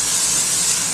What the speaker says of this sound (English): just spray it a little bit